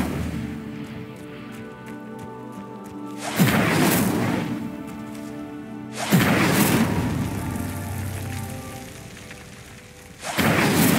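Incendio fire spell cast in Hogwarts Legacy, heard as three loud whooshing bursts of flame at spaced intervals, each swelling then fading into a low rumble, with no voices.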